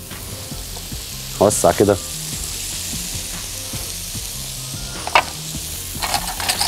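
Mushrooms sear in a hot frying pan for a Salisbury steak sauce, a steady sizzle running throughout with a few sharper clattering stirs and a brief spoken remark over it.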